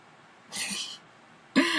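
Two coughs, close and alone: a softer, breathy one first, then a sharper, louder one about a second later.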